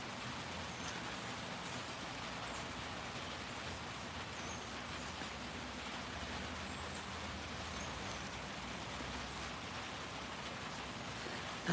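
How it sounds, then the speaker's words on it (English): Steady morning rain falls continuously and evenly on outdoor surfaces, forming a constant broadband hiss with no voices, close and moderately loud throughout. "Listen to the rain."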